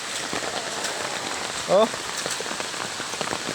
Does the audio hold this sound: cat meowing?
no